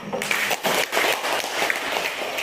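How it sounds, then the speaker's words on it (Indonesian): Classroom applause from students in a science lesson, dense overlapping claps filling the whole short stretch at moderate loudness, with a brief break partway through. "Betul, kita beri tepuk tangan."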